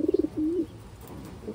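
A checkered hen pigeon coos in short soft rolling phrases, a quick pulsing burst followed by a longer murmur, close by and unaccompanied, with quiet room noise after.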